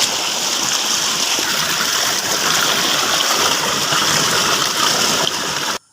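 Irrigation water from a motor pump pours steadily into a farm field channel, a continuous broadband rushing and splashing gush that stays loud and even throughout before cutting off abruptly at the end.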